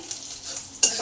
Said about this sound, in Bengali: রসুন কুচিটা দিয়ে দিলাম